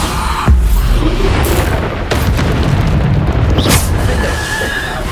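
A Bombarda spell goes off in Hogwarts Legacy during a trial battle, with a loud booming blast early and further bangs and rumbling impacts over a continuous noisy backdrop of combat.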